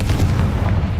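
A Confringo fire-blast spell goes off in the Hogwarts Legacy video game, giving a short, deep, booming burst that fills the whole moment at close range.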